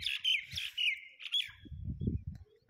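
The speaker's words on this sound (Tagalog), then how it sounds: "Ang ingay ng mga ibon eh" Birds on a farm chirp in quick, bright bursts, several close calls trading back and forth over a quiet background with a low rumble near the end.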